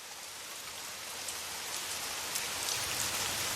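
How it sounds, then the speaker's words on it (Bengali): Heavy rain pouring down as a steady dense hiss that swells slightly, with no voices. "সেদিন মুষলধারে বৃষ্টি হচ্ছে।"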